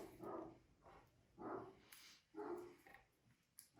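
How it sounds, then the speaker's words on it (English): Dogs bark outdoors at the neighbors, a series of about four or five moderately distant barks at irregular intervals, faint and alone without talk. "my dogs are outside barking at my neighbors who are just trying to live their life"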